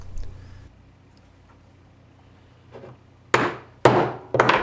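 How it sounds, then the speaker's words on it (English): A hammer drives a bolt through aluminum foil tape covering holes in a homemade rear bike light housing, giving three sharp, loud metallic strikes near the end after a quieter stretch with faint handling noise. "using a bolt and a hammer to punch out each of the holes which got covered up by the tape"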